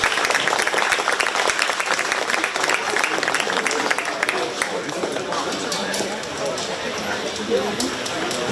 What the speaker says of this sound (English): Let's give these kids a good round of applause.